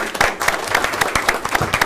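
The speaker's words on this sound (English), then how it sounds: "So I'd love to have a round of applause for these artists and thank them." Audience applause for artists at a city council meeting, a steady close burst of many hands clapping with sharp regular peaks, filling the short span without speech.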